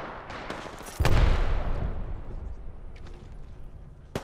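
Gunfire in the battle royale game Apex Legends: one sharp, loud blast that booms and rings off into a fading rumble, followed by faint scattered pops and another crisp shot near the end.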